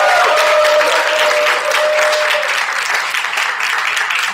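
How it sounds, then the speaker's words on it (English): Loud audience applause at a meet-and-greet fishing charity event, a full, sustained burst of many people clapping with some crowd noise, staying strong across the whole stretch. "And everybody, give Sean a round of applause."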